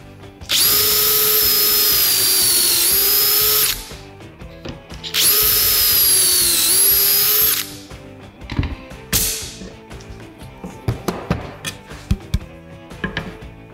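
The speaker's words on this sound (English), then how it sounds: "squeeze the trigger, let it get to full speed, and drill your holes." A power drill bores pocket holes in wood with a Kreg 300-Series pocket-hole jig, two loud steady high-speed runs of about three seconds each, followed by clattering handling noises.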